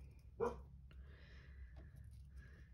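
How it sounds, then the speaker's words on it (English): A single short dog bark sounds close by, followed by quiet background with faint birdsong and distant noise. "My dog's going to start barking."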